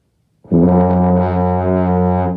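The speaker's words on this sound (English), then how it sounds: "if you're overblowing and making something like this" An overblown tuba note, loud and close, starting abruptly and holding steady for about two seconds with a thick, buzzy brassy tone that barely fades.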